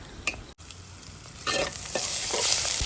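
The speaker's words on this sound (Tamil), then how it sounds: "நல்லா வதக்கிக்கிறோம் தக்காளி வெங்காயத்துக்கு நல்லா வதங்கிப்போம்" Chopped tomato and onion sizzle in hot oil while being stirred for a coconut fish curry, a soft frying hiss broken by scraping stirs that grows busier toward the end.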